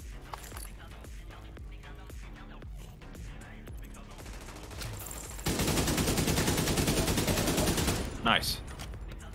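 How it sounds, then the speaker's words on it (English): Automatic gunfire rattles in a video game, starting as scattered shots, then a dense, loud sustained burst, with players talking over the action. "Gun go daka daka."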